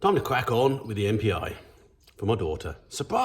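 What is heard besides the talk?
None of the usual background noises is heard.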